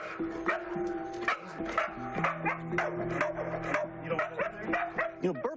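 A calm dog, worked up by something it senses as threatening, barks and yips repeatedly in uneven bursts at close range, with a few whimpering tones between the barks.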